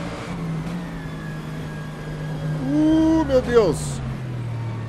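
Simulated GT3 race car engine in rFactor 2 blipping and revving through a downshift into third gear, a steady engine drone rising briefly in pitch, with an excited voice exclaiming over it.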